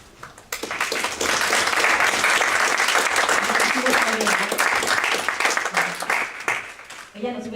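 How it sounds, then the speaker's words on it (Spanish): Audience applause for a speaker at a public-policy and gender talk, a dense, sustained wash of clapping that swells in quickly, holds loud for several seconds, then thins out as a voice begins speaking near the end. "así que este aplauso también le llega"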